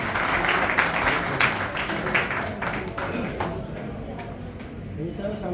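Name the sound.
audience applause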